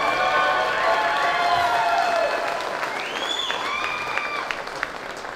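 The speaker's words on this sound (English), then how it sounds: "can I get a clap for me right here?" A crowd at a farm equipment showcase applauds loudly, dense clapping that gradually thins over several seconds while whistles and a few tonal sweeps rise above it.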